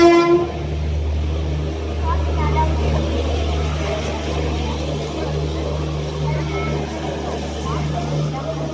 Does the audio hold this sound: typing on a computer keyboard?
no